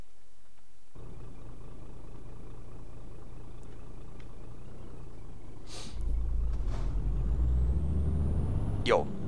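A truck engine in Euro Truck Simulator 2 under a winter mod hums low and steady, growing louder partway through, with brief hissy bursts like air brakes.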